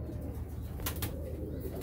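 A golden pigeon with large feathered feet coos softly at close range, a steady low murmur running throughout, with a brief rustle or wing flutter near the middle.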